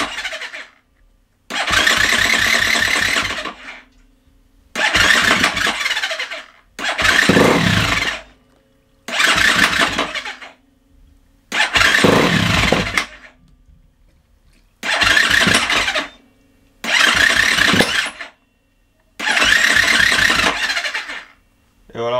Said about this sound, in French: Donc pour moi, à mon avis, c'est le démarreur, ça. Parce qu'on entend, il galère bien.